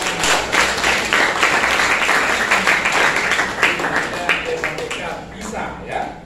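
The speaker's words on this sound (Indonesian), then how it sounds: "Lihat tepuk tangan." An audience at an Islamic religious event claps, producing dense, lively applause that fills the whole clip, with voices mixed in among the clapping.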